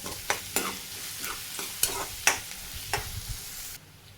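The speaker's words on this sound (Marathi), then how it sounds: "कांदा व्यवस्थित लालसर परतायचा आहे" Onions sautéed in a pan, a soft sizzle broken by repeated spatula scrapes and clicks in an irregular stirring rhythm, close and quiet, fading at the end.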